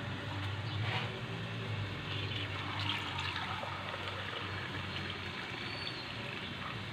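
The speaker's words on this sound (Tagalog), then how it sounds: "ilalagyan natin ng tubig para mas maluto yung ating paa ng manok" Water pours steadily into a pot of spicy chicken feet being cooked, a continuous moderate splashing and rushing with no talking over it.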